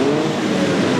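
Superstock race cars roar together around a track, a dense, continuous engine drone that stays loud and steady throughout with no pauses.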